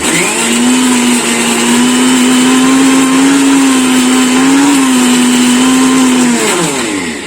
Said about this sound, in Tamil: ஆயில் ஊத்திட்டு திரும்ப நல்லாவே பிளெண்ட் பண்ணி விட்டுடலாம்.